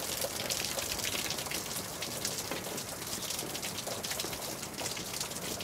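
Water sprays steadily from a garden sprinkler head rigged as a homemade solar shower, a continuous close hiss with dense pattering droplets throughout and no pauses.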